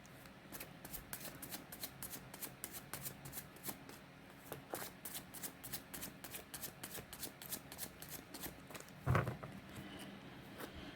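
Tarot cards being shuffled over and over in a soft, rapid, even riffle of papery flicks, with one slightly louder tap near the end.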